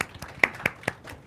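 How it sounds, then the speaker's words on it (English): A few scattered hand claps from a small audience after a speech, roughly five sharp claps spread over a second with gaps between them, fairly close and moderately loud, no crowd swell. "I think that deserves a round of applause"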